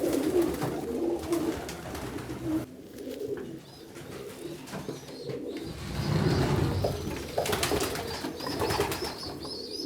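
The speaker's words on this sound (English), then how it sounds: "In this nest box here we've got a bird that's just over a month old." A month-old short-faced tumbler pigeon cooing in a nest box, soft low repeated coos close by over a quiet loft background.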